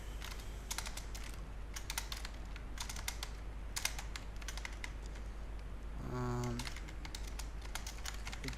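Keys clatter on a computer keyboard as code is written, in quick irregular bursts of typing separated by brief pauses, close and fairly quiet over a steady low hum, with a short electronic tone near the end.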